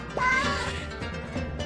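A single cat meow in the video game 100 Asian Cats, a short rising-falling cry near the start over soft background game music.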